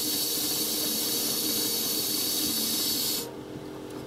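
Air hisses and sputters steadily from the hot side of a Passport 217 RV kitchen faucet during winterizing, a loud continuous broadband rush that cuts off abruptly near the end.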